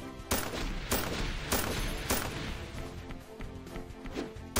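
Rapid gunfire in the mobile video game Angry Granny, a run of loud sharp shots repeating roughly every half second over a busy rumbling battle din, close and continuous throughout.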